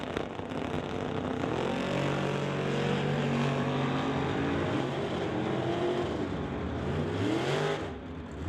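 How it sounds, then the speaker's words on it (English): Drag racing cars, a Ford Falcon and an old school Cutlass, launch and accelerate down the strip in an NHRA Summit ET race, engines roaring loud and steady with rising pitch, heard from trackside before trailing off. "And that brings up the Ford Falcon, driven by Dustin Hunter and Kevin McCulley in his old school Cutlass."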